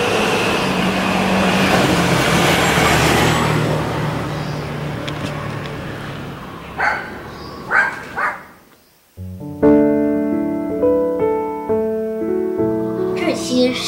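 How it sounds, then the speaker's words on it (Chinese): Street traffic in a university-area community in Da'an District, Taipei: a steady broadband rush of passing vehicles fills the first half, fades after a few brief bumps, then music takes over. "接着行人车身出现，"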